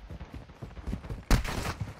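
Gunfire in a video game cracks out sharply, with a loud burst of shots hitting suddenly after quieter scattered rattling, close and punchy.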